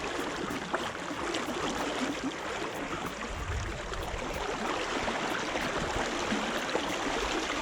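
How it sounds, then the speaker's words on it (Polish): A fast-flowing river rushes steadily nearby, a dense, even wash of churning water that holds constant without pauses or voices. "Jakieś przyspieszenia dostała ta rzeka."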